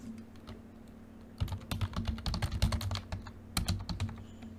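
Typing on a computer keyboard, a quiet stretch of a few taps giving way to dense, rapid clicking bursts that pause briefly and resume, close and fairly clear over a low steady hum.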